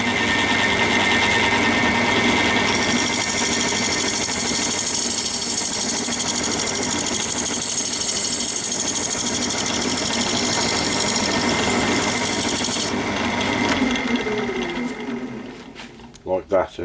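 Wood lathe spinning a coloured hollow form while abrasive strips sand it, a steady loud whirring hum with a brighter scraping hiss for most of the span, fading near the end.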